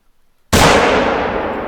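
A single loud rifle shot at a bull elk in theHunter: Call of the Wild, a sharp close crack after a moment of silence, followed by a long rolling echo.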